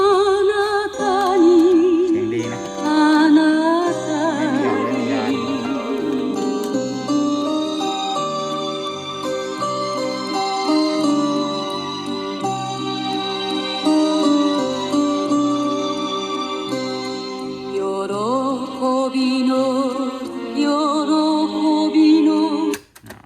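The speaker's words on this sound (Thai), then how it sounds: "ต่อไปฟังระบบเทปนะครับ" Steady music with sustained melodic tones plays continuously at moderate volume from a Sony CFD-S05 cassette player, slightly muffled and unbroken for the whole stretch before stopping abruptly.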